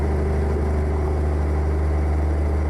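A modded truck engine in American Truck Simulator rumbles with a heavy, deep, steady drone, loud and unbroken for the whole stretch with no voices.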